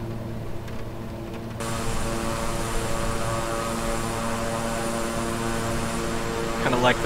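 Steady drone of a King Air 350i twin-engine propeller aircraft in Microsoft Flight Simulator, a continuous engine hum with tonal bands that swells slightly louder after the opening seconds and holds evenly throughout.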